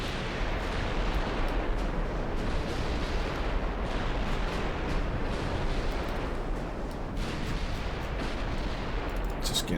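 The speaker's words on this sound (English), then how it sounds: "Just get as many shells downrange as possible" Naval guns on warships, including the Oberon and Bremen, fire shells in a continuous, dense barrage of heavy booming reports and rumble. The volley runs loud and steady throughout, with no voices.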